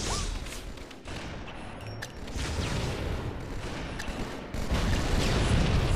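Rapid gunfire in Halo 2 during a team doubles match, dense bursts of shots over a constant rumbling game soundtrack, loud and close with sharp cracks throughout.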